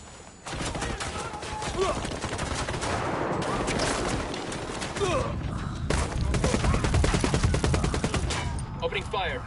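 Sustained video game gunfire in Ghost Recon Wildlands, dense overlapping rifle bursts and rapid automatic fire, loud and continuous, ending in fast repeated shots, with voices heard in the mix.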